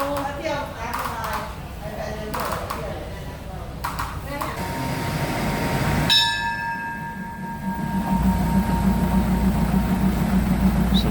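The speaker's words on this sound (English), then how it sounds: "this train's just about to depart back up the line to Wongwian Yai" A train at Maeklong Railway station in Thailand, with station bustle and voices heard first, then a bell-like tone and a rising engine rumble that grows steady and louder as the train prepares to depart.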